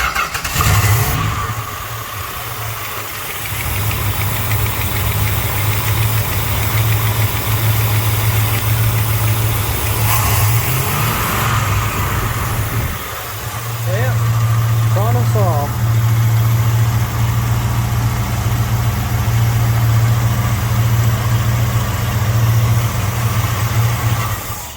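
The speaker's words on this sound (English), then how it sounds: "this car sounds real nice, runs real good" A car engine restarts after being flooded while the throttle was adjusted, then settles into a steady, loud idle with a brief rev in the middle; a person talks over it.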